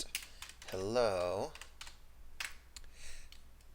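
Scattered keystrokes on a computer keyboard as a terminal command is entered, soft close clicks around a brief spoken voice.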